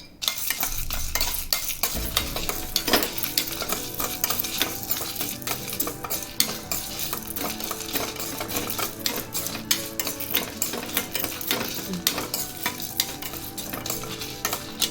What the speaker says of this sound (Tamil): நம்ம எடுத்து வச்சுருந்த கடலைப்பருப்பு, உளுத்தம்பருப்பு, 2 வத்த மிளகாய் இது எல்லாத்தையும் சேர்த்து இந்த பேனில் வறுத்துக்கலாம்.